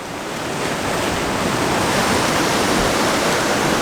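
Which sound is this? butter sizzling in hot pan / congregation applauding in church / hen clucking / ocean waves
ocean waves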